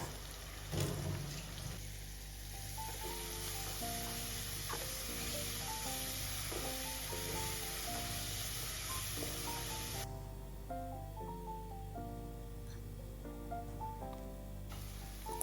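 Ginger, garlic and green chili paste sizzles with onions in a pan, a steady close frying hiss running throughout, while background music with a melody plays along underneath.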